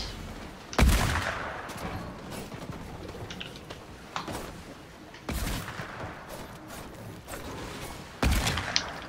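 Pistol gunfire in the video game Fortnite: three loud, sharp shots spaced a few seconds apart, with fainter pops and busy game noise in between and no talking.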